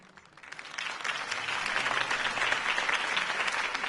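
Applause from a campaign rally crowd after a speech backing Harvey Dent, starting thinner and swelling into steady, dense clapping that holds for several seconds with no voices over it.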